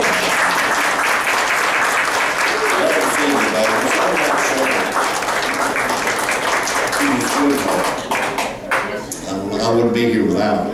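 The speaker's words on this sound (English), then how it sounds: "Give a big round of applause." A crowd gives a loud, sustained round of applause for a woman introduced on stage, dense clapping running the whole stretch with voices mixed in and a brief dip near the end.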